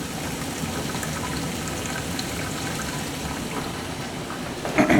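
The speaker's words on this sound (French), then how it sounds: "Mais ça bouille bien quand même." Maple sap boiling hard in a wood-fired evaporator, a constant rushing, bubbling wash of sound with a brief louder clatter near the end.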